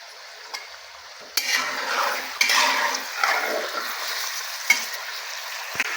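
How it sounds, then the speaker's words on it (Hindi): Chicken for a creamy white chicken dish frying over a high flame, a steady broadband sizzle that swells after a quiet start, with scattered stirring scrapes and small utensil knocks against the pan, close and without talk. "ये देखिए, दोस्तों इसको हाई फ्लेम पे हमने फ्राई करना है"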